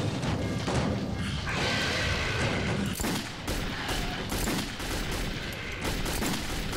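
Gunshots in the video game Metro 2033, a series of booming shots and thuds amid a dense clatter of rapid fire, loud and close, with brief quieter gaps between bursts.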